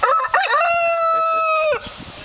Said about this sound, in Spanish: Vaya gallo birrioso.